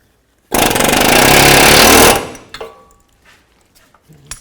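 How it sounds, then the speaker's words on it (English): A pneumatic air hammer hammers a control arm stud on a GMC Acadia's rear suspension. It fires in one loud, continuous burst lasting about a second and a half, then stops, leaving faint clanks and shuffling. "If you have to, you can use an air hammer."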